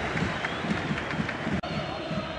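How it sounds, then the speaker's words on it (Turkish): Stadium crowd at a Beşiktaş versus Barcelona Champions League football match applauding a player, a steady dense roar of clapping and cheering throughout, with commentary mixed in. "Bu kez de alkışlar Şorumlu için."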